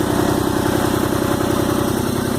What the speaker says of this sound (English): As you can see, the engine is running.